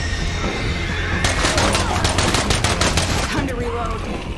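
Rapid automatic gunfire in the video game State of Decay 2 bursts in after a second and rattles on loudly and continuously over a dense background of game sound, with no talk.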